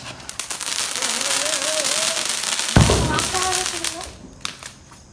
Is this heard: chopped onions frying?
no